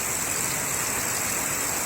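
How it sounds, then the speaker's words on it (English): Rain from the tail end of storm Sally falls as a steady, even hiss of moderate loudness, continuous throughout with no voices. "it is doing some rain here"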